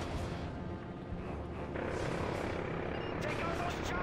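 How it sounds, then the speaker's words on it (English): Helicopters in Call of Duty: Modern Warfare 3, a dense continuous rotor-and-engine roar blended with gunfire and explosions, loud and steady throughout the game combat. "Take out those choppers."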